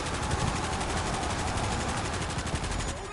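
Automatic gunfire in a zombie survival game, rapid rhythmic bursts that hold steady and loud for about three seconds before easing slightly at the end, with no talk over them.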